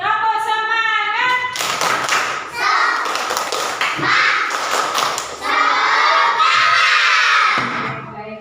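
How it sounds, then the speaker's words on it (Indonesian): Elementary school children perform a rhythmic 'tepuk semangat' spirit clap, bursts of loud group clapping mixed with chanting and shouting voices, led by a teacher's voice at the start. "Tepuk semangat."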